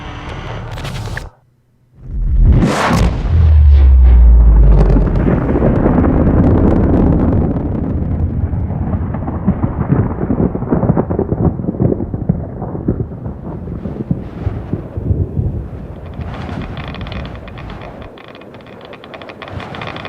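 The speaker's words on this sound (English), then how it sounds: "The ship just exploded." A huge starship explosion in the game Subnautica hits with a sharp blast, then a long, roaring rumble that slowly thins into crackling debris and wind-like noise over many seconds.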